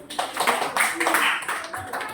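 Students in a classroom applaud the groups with a short burst of clapping, mixed with voices talking over it.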